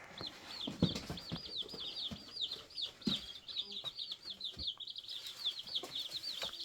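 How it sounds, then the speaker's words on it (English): Newly hatched baby chicks of mixed breeds, including Americanas, peep in a continuous chorus of high, shrill chirps, close by, with scattered bumps and handling noises underneath. "All right, so we'll get the chicks in here and we'll show you that."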